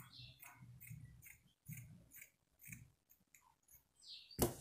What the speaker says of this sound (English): First, I'm going to cut the back neckline.